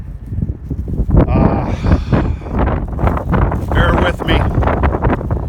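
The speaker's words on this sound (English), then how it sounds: "That wind is something fierce today" Strong, fierce wind buffets a farm field, roaring and gusting loudly and unevenly against the microphone throughout, while someone speaks briefly over it.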